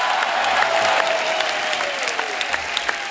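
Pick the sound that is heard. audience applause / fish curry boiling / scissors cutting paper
audience applause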